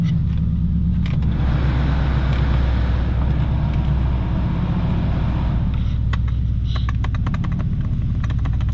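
A 2009 Ford Mustang GT with a 4.6L engine idles and runs close by with a deep, continuous rumble and steady low drone, with a few faint clicks toward the end and no talk.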